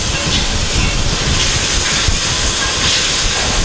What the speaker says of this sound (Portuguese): nós estamos aqui refogando o nosso alho, cebola e pimentão